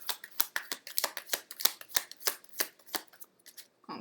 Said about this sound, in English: I usually do 3 shuffles and see what comes out.